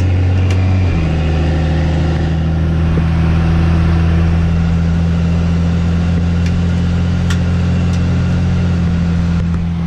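A 6.7 fourth-gen Dodge Ram Cummins with a swapped 48RE transmission drones steadily under acceleration, its pitch shifting after a gear change about one second in, heard continuously from inside the cab.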